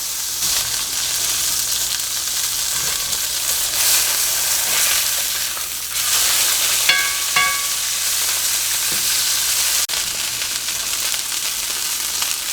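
Jalapeno popper burger patties sizzle steadily in a hot pan, a dense, continuous frying crackle with a few sharper pops partway through, close and loud with no talking.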